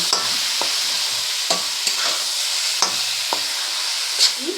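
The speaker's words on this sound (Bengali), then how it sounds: "সবগুলোকে ভালো করে কষিয়ে নেব।" Onions and tomatoes are stir-fried with mutton in a pan for Bengali mutton kosha. A steady loud sizzle runs throughout, and a spatula scrapes and knocks against the pan in a series of repeated strokes.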